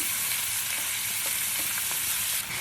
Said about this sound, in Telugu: 50 గ్రామ్స్ టమాటోస్ కూడా ఆనియన్స్తో పాటు ఫ్రై చేసుకుందాం.